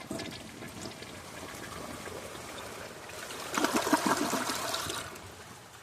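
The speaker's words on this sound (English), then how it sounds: "I will do our first test, which is flushing one washcloth." A 2004 Kohler Kathryn toilet flushes a washcloth: water trickles and runs at first, then a louder rushing flush surges for about two seconds before tapering back to a gentle refill trickle.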